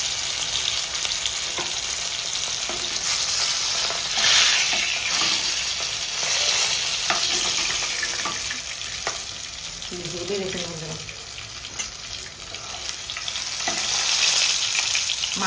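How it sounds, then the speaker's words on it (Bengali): Rohu fish pieces fry in hot oil in a wok, giving a loud, steady sizzle with occasional stirring and bubbling bursts, and no voices. "বাকি মাছটা খুব সুন্দর ভাজা হয়ে গেছে"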